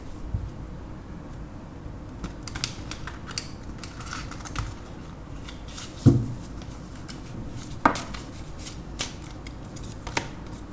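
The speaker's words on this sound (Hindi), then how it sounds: "एक बार फिर से शफल कर लेते हैं।" Tarot cards shuffled by hand, giving a steady run of crisp papery ticks and rustles with a few sharper snaps, close and moderately loud with no talking.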